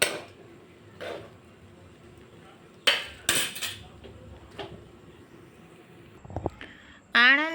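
A metal spoon scrapes and clinks against a pan and serving bowl as mung bean pulao is dished out, with scattered sharp knocks and clatters, close and moderately loud, and no talking.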